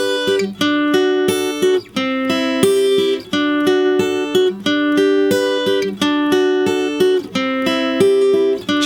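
Acoustic guitar strumming the chord progression of a song, steady rhythmic strums with repeating chord changes, close and clear without talk.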